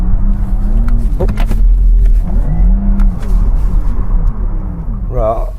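A 2022 Porsche Taycan GTS electric car slides and spins out, giving a steady loud low rumble with swelling drive whine and tyre noise throughout, while a person talks over it.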